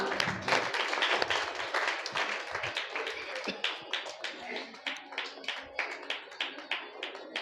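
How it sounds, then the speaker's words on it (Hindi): Audience clapping at a religious recitation gathering, starting as dense applause and thinning into a steady, rhythmic unison clap, with voices and tapping mixed in. "इसलिए ताली बजा के व्यायाम कर ले जरा।"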